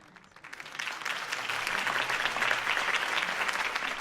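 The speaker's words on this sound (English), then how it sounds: "If only Mr. Wayne, my campaign's largest backer, could have heard that applause" A crowd applauds in a Batman video game scene, the clapping building quickly from near silence into a steady, dense roar of many hands that continues to the end.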